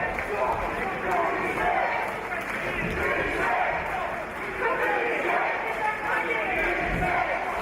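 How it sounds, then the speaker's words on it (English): Crowd cheering at an international combat sports gala in Ustroń, Poland, a continuous roar of fight fans under a commentator's voice. "This crowd starting to come alive here in Ustroń, Poland"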